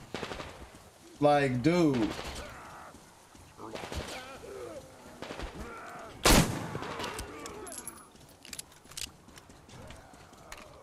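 Gunfire in the Metro Exodus shooter, a few sharp isolated shots, one very loud near blast, spread among other game effects while someone talks briefly.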